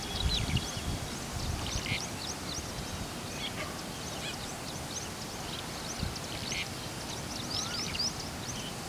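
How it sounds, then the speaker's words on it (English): Many birds gather and call around small shallow pools of standing water outdoors, a steady chorus of overlapping chirps and calls with a few louder nearby cries, continuous across the whole stretch. "The gathering of birds around these tiny pools is a powerful reminder of how desperately life responds when water returns."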